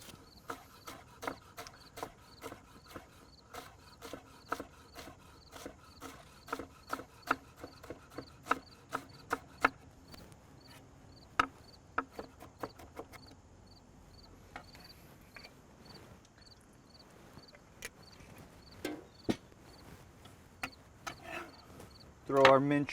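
A knife finely minces shallots on a cutting board, making a long run of quick, sharp, faint taps in an uneven rhythm, with a short louder sound at the end.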